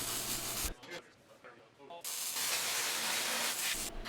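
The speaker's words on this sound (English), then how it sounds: "weld the wheel plate to the tabs." A welder fuses the wheel plate to the tabs of a DIY Mojave tire carrier, giving a loud, steady broadband hiss and crackle that pauses briefly midway before resuming, close and without talking.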